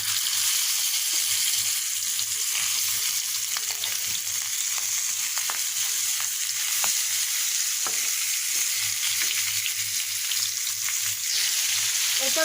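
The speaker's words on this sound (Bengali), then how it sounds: "তার জন্য যে তেল গরম করতে দিয়ে দিয়েছি সরিষার তেল এখন মাছগুলোকে ভেজে নেব" Pangas fish fries in hot mustard oil with a loud, steady sizzling hiss, occasional crackles and a low hum underneath, close and continuous with no talking.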